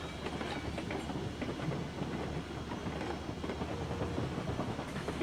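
A train in the video game RailRoads Online rolls along its rails with steady rumbling and rhythmic clickety-clack, a continuous moderate mechanical sound with no talking.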